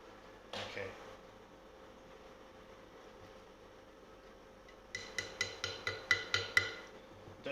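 A glued banjo part is tapped into its hole with a small hammer, first as one isolated knock, then as a rapid run of about eight sharp close taps whose tone shifts as the part bottoms out.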